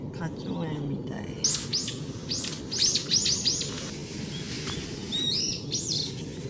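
Several birds chirp in short bright bursts at a campsite under cherry trees in full bloom, the calls scattered across the moment over a steady rushing background.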